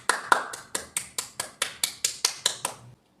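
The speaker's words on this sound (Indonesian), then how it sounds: "berikan tepuk tangan untuk Naida." A primary-school class claps for a student in a steady, rhythmic beat, about a dozen crisp unison claps close by that end abruptly.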